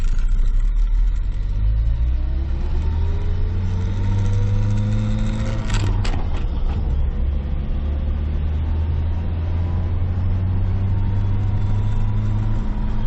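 A 1996 Ford Ranger pickup drives along the road, its engine rumbling steadily throughout with rising and falling pitch as it accelerates and shifts, plus a brief sharp clatter midway; no voices.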